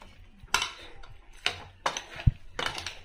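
A spoon scrapes and clinks against a pot while chicken pieces are stirred with salt and chili powder, giving a few irregular, close metallic knocks and soft scraping strokes.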